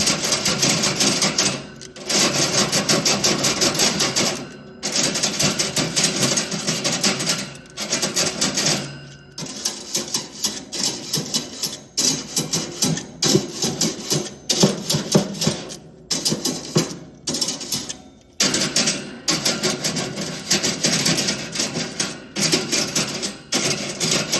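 SlingShot grill grate cleaner dragged across BBQ grill bars, with caked-on residue on one shelf: rapid, rattling metallic clicks and scrapes in continuous close bursts, with brief pauses between strokes.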